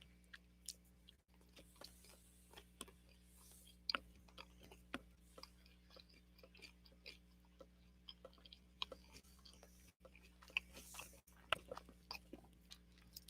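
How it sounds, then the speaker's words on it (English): Crunching and chewing on pizza close to the microphone, with soft irregular bites and mouth clicks scattered through a quiet room. "And the crunching and chewing noises."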